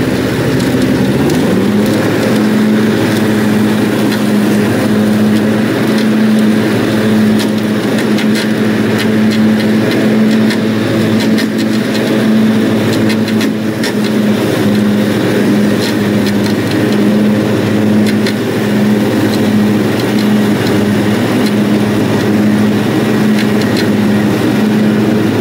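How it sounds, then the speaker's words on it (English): A riding lawnmower engine runs at a steady, continuous drone with an even low hum throughout, loud and close, with no voices. "We just got the riding lawnmower."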